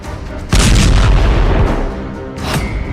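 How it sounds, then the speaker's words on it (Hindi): After a brief lull, a powerful blast from an Israeli strike in Syria erupts with heavy low rumble that lingers and decays, followed by a smaller burst near the end. "धमाके का तीसरा वीडियो"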